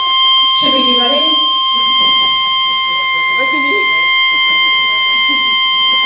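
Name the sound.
fire alarm going off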